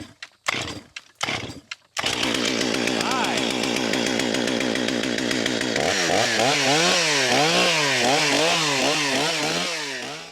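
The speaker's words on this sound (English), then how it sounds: "So if anybody is curious about the saw that Matt's using, this is a steel 661 with a 28-inch bar" A Stihl 661 chainsaw with a 28-inch bar runs loud and close after a few sharp starter pulls, holding a steady high idle then revving up and down in repeated surges.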